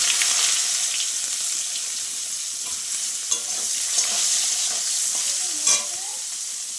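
Eggplant pieces frying in a pan while being stirred: a continuous bright sizzle broken by scraping strokes and a few sharp clinks of the spatula against the pan.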